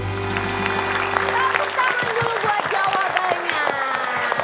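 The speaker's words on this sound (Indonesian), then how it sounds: "Tepuk tangan dulu buat jawabannya." A studio audience claps for a contestant's answer on an Indonesian comedy quiz show, a dense burst of applause that builds after a held tone and continues under some talk and background music.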